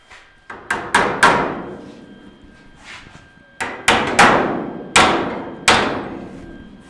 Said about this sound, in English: Just a matter of tacking with a hammer.